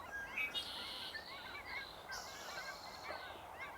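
Cackling geese call from a distance at a birding spot on Sargeant Bay, faint honking cackles repeating over steady outdoor background noise.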